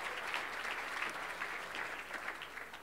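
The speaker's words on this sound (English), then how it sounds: "that does deserve a round of applause" Audience applause at a live-streamed business award event, a steady dense clapping that holds evenly at moderate volume throughout, with no voices over it.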